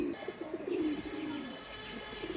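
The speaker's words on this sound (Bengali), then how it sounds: "ডাক দেখছেন, ডাকলে কবুতরটার সাইজ কি হয়ে যায়।" A Deshi Golla pigeon coos in a repeated rolling, throaty rhythm, close and clear with faint background noise.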